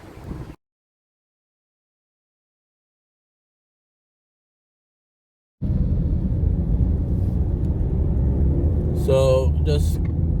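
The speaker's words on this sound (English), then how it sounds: "So just taking a drive around the town of Papine" A car drives around the town of Papine in Kingston, Jamaica. After a brief blip and a long silence, a steady low engine and road rumble runs from inside the vehicle, with faint higher sounds near the end.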